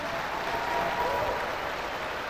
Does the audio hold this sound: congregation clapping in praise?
yes